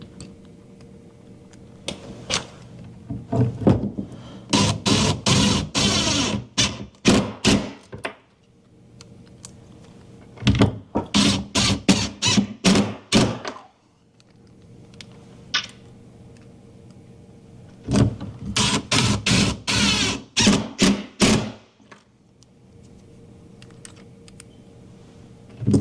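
Screws are driven into a melamine garage work counter in three long, loud bursts of rapid, rattling clicks, separated by quieter gaps.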